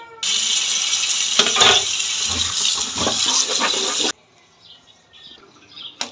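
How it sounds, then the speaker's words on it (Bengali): Water runs and splashes as eggplants and other vegetables are rinsed by hand in a village kitchen, a steady broadband gush for about four seconds that then cuts off, leaving faint clinks and handling sounds. "আমি বাকিগুলো ধুয়ে নিচ্ছি"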